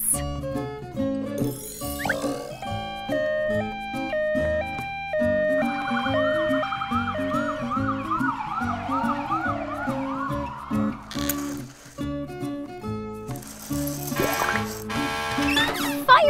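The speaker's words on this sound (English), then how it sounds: "Ambulance." An ambulance siren wails in rising and falling sweeps through the middle of the passage, set against cheerful children's music with tinkling sounds.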